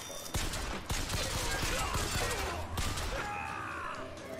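Gunfire in the video game Bioshock Infinite, a loud rapid fusillade of sharp cracks with scattered individual shots and mechanical clatter, continuing across the whole stretch with some game effects mixed in.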